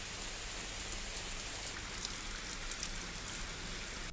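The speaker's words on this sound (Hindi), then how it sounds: "छत्तीसगढ़ के कई जिलों में बारिश हो रही है।" Steady rain falls across Bilaspur, Chhattisgarh, a dense, even hiss of drops hitting surfaces that holds without a break throughout, with no voices.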